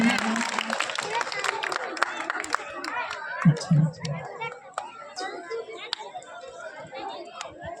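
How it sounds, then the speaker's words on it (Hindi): Scattered clapping from an audience at a village school Republic Day ceremony honouring teachers, strongest at first and then thinning out, mixed with crowd chatter and children's voices. "जोरदार तालियां"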